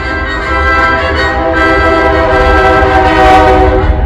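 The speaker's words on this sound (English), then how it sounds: "Freaking train." Loud, sustained train horn blaring over the rumble of rail cars passing close by, the horn's steady tones holding throughout with no talking.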